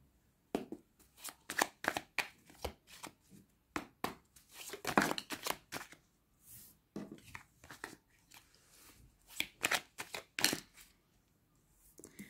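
Tarot cards being shuffled and laid out for a nine-card spread, soft close rustles, flicks and light slaps in irregular bursts at a low level with no talk.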